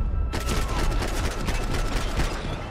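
Dense, continuous gunfire from a shootout in the video game Max Payne 3, a loud sustained burst of rapid overlapping shots with booming impacts, running without pause for over two seconds.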